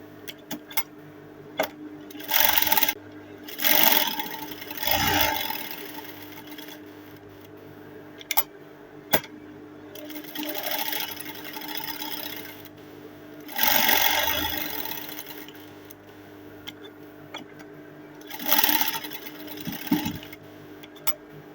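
Domestic sewing machine stitching Ankara fabric for a ball dress runs in several short whirring bursts of a second or two, separated by quiet pauses, close up with no talk.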